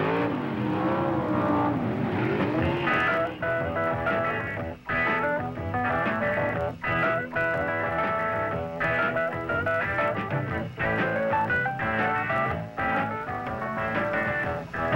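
1970s drag racing cars at Ontario Motor Speedway roar loudly and continuously, engines revving and surging through repeated pulses with no talking.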